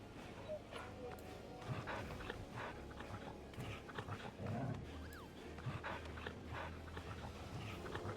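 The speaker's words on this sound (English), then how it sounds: "Alright, before we go, we pet the dog." A dog being petted in the video game Final Fantasy XIV, panting and giving small yips and whimpers over the game's ambient sound, with people talking over it.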